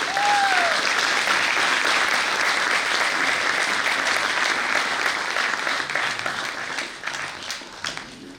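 A theater audience applauds an actor after a stage play about gender-based violence: a dense, loud wash of many hands clapping, steady throughout and easing slightly toward the end, with no talking.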